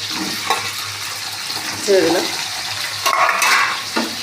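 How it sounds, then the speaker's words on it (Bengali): Potato pieces eased into hot oil with panch phoron, a loud close frying crackle with a few stirring scrapes and soft splashes as they settle, no voices. "এই আমি আলুটা আস্তে আস্তে ছেড়ে দিচ্ছি, যাতে তেলটা হাতে ছিটকে না আসে"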